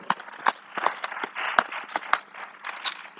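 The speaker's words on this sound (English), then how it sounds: "a resounding round of applause for all of them" A live audience at a housing fair claps in a scattered round of applause, sharp separate claps landing irregularly over a low crowd murmur rather than a dense, sustained ovation.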